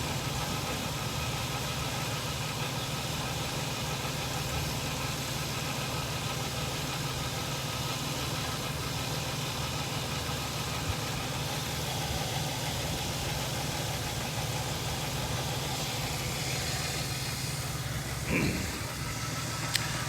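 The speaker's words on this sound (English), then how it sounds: "I'm gonna let you take a listen to the engine here" A supercharged 2003 Nissan Xterra SE with 104K miles idles steadily nearby, a continuous even hum with a faint mechanical tick, a short bump near the end and no talking.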